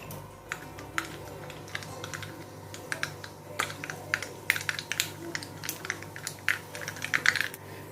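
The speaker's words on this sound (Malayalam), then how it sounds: "ഇതിലേക്ക് അര ടീസ്പൂൺ കടുകിട്ടൊന്ന് പൊട്ടിച്ചെടുക്കാം" Half a teaspoon of mustard seeds pops in hot coconut oil for a jackfruit seed and lentil curry, sharp dry crackles that start sparse and grow quicker and denser toward the end, nearby and with no talking.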